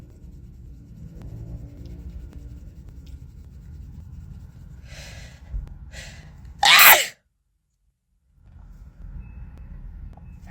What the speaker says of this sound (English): y'all wanted to hear me sneeze?